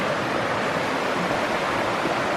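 A mountain brook in the Adirondack Mountains of New York flows with a continuous, even rushing of water, loud and close, with no voices over it.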